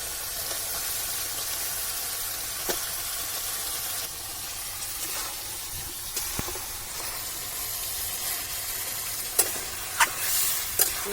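A goat head sautéing in spice masala in a village-style kitchen, a soft continuous sizzle with stirring scrapes and several sharper clinks of a spoon against the pot near the end, no talking.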